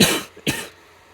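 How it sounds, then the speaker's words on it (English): Two sharp coughs, the first longer and harsher, the second a brief burst after a short pause, close and loud with no talking. "Why do I keep coughing?"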